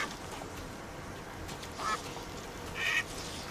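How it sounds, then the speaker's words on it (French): A duck in A Plague Tale: Requiem gives two short, fairly faint quacks a second apart, set against a steady quiet ambient background. "Oh, il y a un canard."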